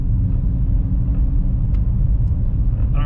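A Nissan Z cruising on a test drive, a steady low engine and road rumble heard from inside the car, constant and fairly loud with no talking.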